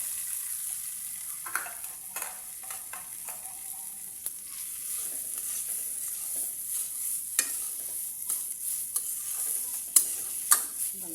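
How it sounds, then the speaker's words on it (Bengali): Bharali fish stirred into fried spices in a pan sizzle with a soft, steady hiss, while a spatula scrapes and clicks at irregular moments throughout, louder near the end, and no one speaks. "মশলা কষানো হয়ে গেছে, এখন আমি এর মধ্যে এই বাড়ালিগুলোকে দিয়ে দেব।"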